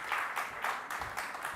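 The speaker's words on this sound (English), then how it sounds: "With a round of applause from all of you" An audience at a national seminar on the Bharatiya 64 arts applauds to welcome a guest to the dais, with steady, fairly faint clapping that sustains through the short moment without voices.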